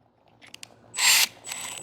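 A drill bit is ground in a drill bit sharpener, with a couple of faint clicks followed by two short, harsh bursts of high grinding, the first louder than the second, heard up close.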